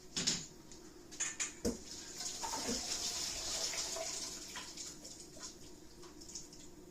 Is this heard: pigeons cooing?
no